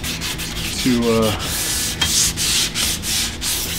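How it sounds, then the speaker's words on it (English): Wet sanding on the primer of a BMW E34 wagon bumper makes close, loud scraping strokes that repeat in a steady back-and-forth rhythm. A brief spoken word is heard partway through. "I'm just wet sanding the primer a little bit"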